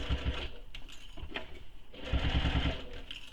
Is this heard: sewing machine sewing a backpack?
yes